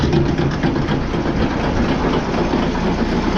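A small gas engine on a post-hole auger runs steadily at close range, with a loud, continuous rumbling drone and no break or change in pace.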